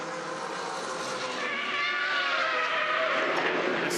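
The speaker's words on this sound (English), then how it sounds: "The squeal of those Hoosier tyres on the Greg Crick car." Hoosier tyres on the Greg Crick Touring Car Masters race car squeal without a break at Adelaide, mixed with a loud, steady engine roar that swells slightly over four seconds, with no voices.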